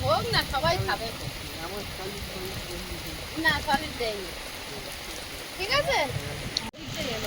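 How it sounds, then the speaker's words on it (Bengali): Steady rain hisses in the background while people talk over it, with a sharp knock near the end. "হঠাৎ এত বৃষ্টি এলো আর সমস্যা তৈরি হয়ে গেল"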